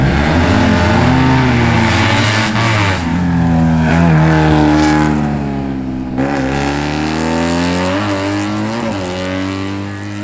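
Close and loud, a Fiat 500 Group 4 race car engine at a 2022 race revs hard and raspy, its pitch climbing and dropping through gear changes across ten seconds, with no talk.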